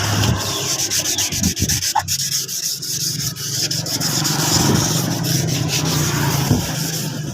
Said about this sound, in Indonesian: ini kita gosoki seperti ini sampai halus